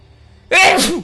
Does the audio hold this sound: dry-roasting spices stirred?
no